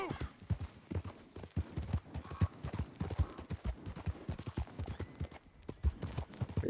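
Horse hooves clip-clopping at a steady walk in the video game Red Dead Redemption 2, an even rhythmic run of close, fairly loud thuds with no talking.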